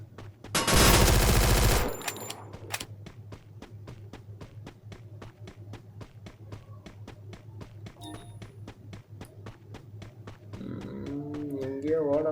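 Automatic gunfire in the Free Fire MAX mobile game crackles as a loud burst, then a long steady stream of evenly spaced rapid shots runs under a constant game hum, ending among brighter game effects.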